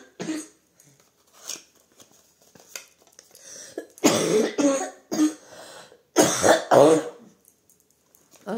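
Several rough coughing fits, close up, with quieter clicks and breaths between them and two heavier bursts of coughs later on.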